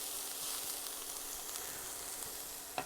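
A steak sizzles steadily in a pan over medium to medium-high heat, a faint continuous frying hiss with a brief louder crackle near the end.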